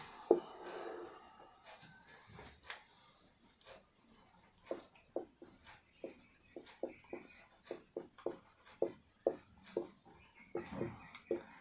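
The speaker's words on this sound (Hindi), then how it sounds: "चलिए, यहाँ पर लिख देते हैं।" A maths formula, a² minus b² factorised, being written out as a series of faint, close ticks and scratchy strokes in an irregular rhythm in a quiet room.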